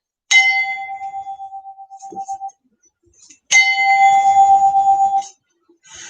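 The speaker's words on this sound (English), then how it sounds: "So when I hit this chime," A metal chime struck twice during a science demonstration, each strike ringing out loud and clear with a sustained bright tone that slowly decays; a faint clink sounds between the two strikes.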